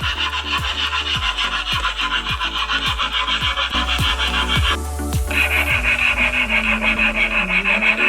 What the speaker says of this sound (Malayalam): ഞാൻ ഇവിടെ അൾട്രോ ബ്ലേഡ് വെച്ചാണ് കട്ടുന്നത്